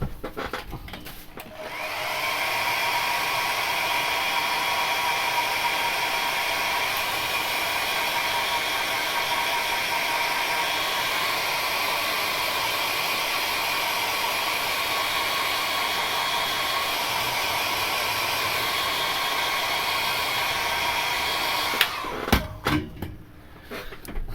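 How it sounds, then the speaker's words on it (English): A hair dryer blows on wet paint on a Warhammer miniature, a loud, steady whooshing hum running for about twenty seconds before it cuts off, followed by a few nearby clunks. "Okay, so hair dry that."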